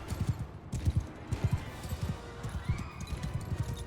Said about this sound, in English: Oh, there goes a horse.